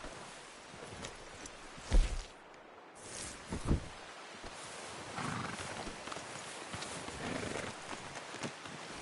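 Horse hooves clip-clop in Red Dead Redemption 2, a few faint, irregular thuds spaced out under low ambient outdoor noise, with no talking.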